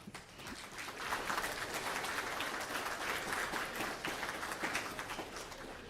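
An audience at a talk in Spruce Grove, Alberta claps steadily, a dense wash of applause that swells after a second and holds evenly before tapering slightly.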